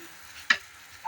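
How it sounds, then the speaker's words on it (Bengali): A utensil scrapes once through fried vegetables being mixed in a pan, giving a short, sharp stir over a faint, quiet background. "সব মিক্স করা হচ্ছে এখন।"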